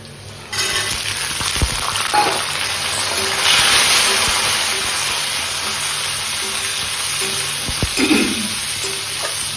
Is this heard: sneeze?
no